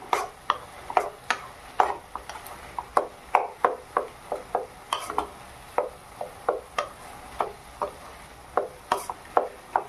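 Khapra greens and potatoes being stirred in a pan, a series of crisp, evenly spaced spatula scrapes and clicks over a soft background sizzle, close and fairly quiet, without speech.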